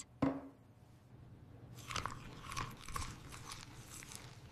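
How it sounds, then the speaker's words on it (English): A person chewing dinner at home makes soft crunching and mastication sounds, with a sharp bite early on followed by several rhythmic chews, close and fairly quiet. "I eat my dinner."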